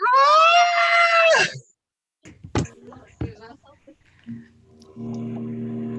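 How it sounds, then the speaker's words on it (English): A person lets out one loud, sustained high-pitched scream lasting over a second inside a barn, followed by a pause, then scattered knocks and faint indistinct sounds. "I came in and you were screaming"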